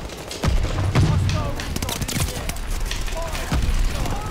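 Hip-fired gun bursts in the shooter Call of Duty: Vanguard, loud close shots with booming thumps amid continuous in-game battle noise.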